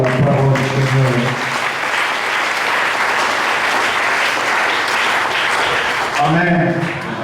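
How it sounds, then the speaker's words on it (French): A church congregation applauds and cheers in a dense, loud wash of clapping that runs for several seconds, with a voice speaking over it at the start and again as it fades. "Si on peut donner très bon offrande d'acclamation à la parole du Seigneur"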